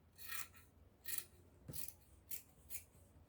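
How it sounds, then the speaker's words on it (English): Scissors cut through fabric along a traced gown pattern piece, giving five or six short rasping snips in an irregular rhythm, close and fairly quiet with no talking. "Now what I have to do is just to go ahead and trace this out, like cut it out."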